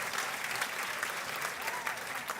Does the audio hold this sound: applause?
yes